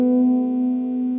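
A held piano sound on the white keys rings out as a single steady, clear, sustained tone that fades slightly over a second.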